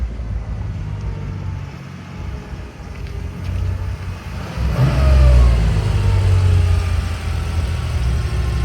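A Porsche 911SC with a rebuilt 3.0 engine and 46mm PMO carburetors pulls hard in second gear, its engine note swelling from a steady drone into a louder, rising roar halfway through, heard from inside the car with no talking.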